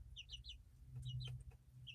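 Several short clucks and chirpy calls from a hen, repeated irregularly over a steady low rumble, fairly close, with no talk.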